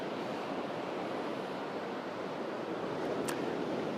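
Steady roar of ocean surf breaking on a beach where about a dozen surfers are out, a continuous broadband wash of waves with no talk.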